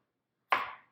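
A kitchen knife cuts carrots into small discs on a cutting board with one sharp close chop that decays quickly, alone in quiet.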